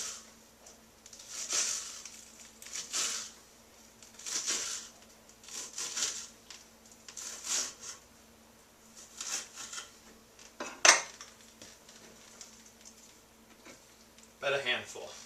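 A knife cuts through bunched green onions on a board, giving soft, regular chopping strikes about every second or two, fairly quiet, with a voice in the background.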